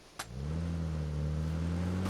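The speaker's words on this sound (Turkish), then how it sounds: "Araba çalıştı." Car engine in PUBG on PS5 cranking to life with a sharp click, then settling into a steady, close mid-pitched idle hum that holds evenly to the end.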